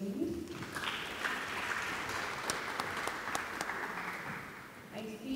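An audience claps at a depression awareness talk before a video screening, a steady but quiet wash of applause with a few sharper claps and faint voices underneath.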